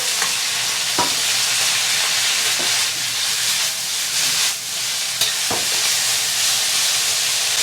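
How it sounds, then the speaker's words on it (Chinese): Sliced beef hitting a hot wok with dried chili and scallion, a loud, steady sizzle and frying hiss close up, punctuated by a few sharp clinks of a spatula stirring. "倒入切好的牛肉芽"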